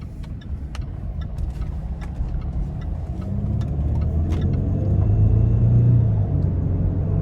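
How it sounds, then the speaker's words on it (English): A 2016 Range Rover Sport HSE Td6 diesel drives on the road, its engine rumbling low and steady inside the cabin, then swelling louder as it accelerates, with a few light clicks and taps over the top. "take this 2016 Range Rover Sport with a diesel out on the road for a quick test drive"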